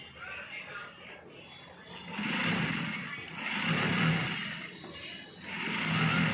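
A five-thread overlock sewing machine stitches fabric for ready-made trousers, running in several steady motor bursts that swell and ease, close by and loud, with no talk over it.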